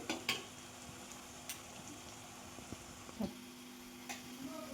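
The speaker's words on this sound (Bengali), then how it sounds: "এই যে পেঁয়াজটা ভাজা হয়ে এসছে বাদামি মতো, ঠিক বাদামি বাদামি কালার হবে" Onions for a mutton curry fry in a pan with a quiet, even sizzle, broken by a handful of light ticks and taps of a spoon stirring against the metal.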